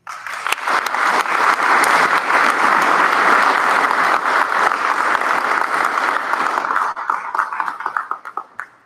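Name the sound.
audience applause welcoming a speaker at a meeting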